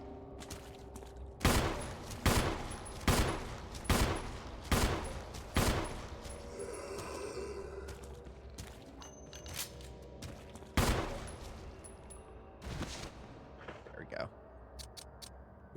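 Pistol gunfire in Resident Evil: a run of sharp shots spaced about half a second apart, then a pause and a few more scattered shots, loud and close over a low ambient game background.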